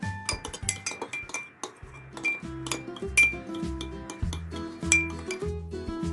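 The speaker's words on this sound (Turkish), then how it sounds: "İyice karıştırıyorum." A spoon clinks and scrapes against a dish while tomato paste, olive oil and lemon juice are stirred together into a sauce, giving busy, irregular metallic taps up close with no voices.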